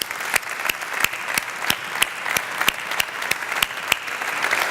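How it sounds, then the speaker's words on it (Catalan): A crowd at a Catalan campaign rally in Reus claps in steady applause, with sharp, regularly spaced claps standing out above the massed clapping, continuous and fairly close, with no speech. "Un aplaudiment per vosaltres."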